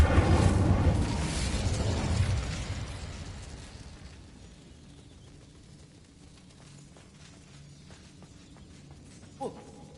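A fiery Incendio spell blast in Hogwarts Legacy, a loud whooshing burst that roars for about two seconds and then fades into a low rumbling tail, followed later by a single short pop.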